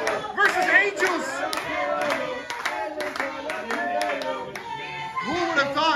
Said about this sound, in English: The crowd chanting for the suplexes of Chris Angels.